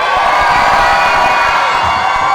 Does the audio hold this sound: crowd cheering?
yes